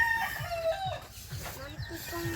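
A rooster crows with a drawn-out call while chickens cluck in short repeated bursts close by, the farmyard fowl sounding over a steady low background.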